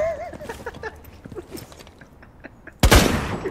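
A gunshot in the tactical shooter game Rainbow Six Siege rings out loud and sharp near the end, one close blast with a decaying tail, following quieter in-game footsteps and background sounds.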